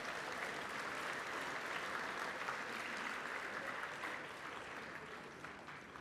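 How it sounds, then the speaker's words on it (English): A school assembly audience at a Catholic college claps in a sustained round of applause, dense and steady before fading slightly toward the end. "Please give a round of applause to our Year 8 representatives."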